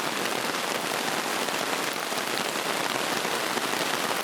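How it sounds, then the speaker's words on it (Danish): Steady, dense rain pours down on a wilderness camp in the Swedish backcountry, a constant close hiss of drops striking surfaces with no pauses and no voices. "Vi har slet ikke lovet regn, så vores camp er slet ikke bygget til stormvejr og regnvejr."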